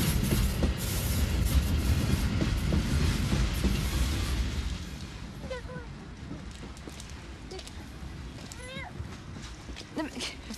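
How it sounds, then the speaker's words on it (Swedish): A train runs on rails with a steady, close rumble that fades partway through, followed by thin high squeals and scattered clanks over quieter rolling noise. "Och en del tåg går fortfarande."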